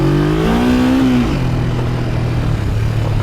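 A 1973 Honda CL350 motorcycle revs loudly and steadily while ridden off-road like a dirt bike, its engine pitch rising, dropping sharply, then holding a lower droning tone close by, with no talking.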